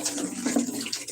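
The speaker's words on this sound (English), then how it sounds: "I'm going to pour it in these buckets" Homemade plant nutrient liquid pours into buckets, a close, continuous splashing and gurgling stream lasting about a second.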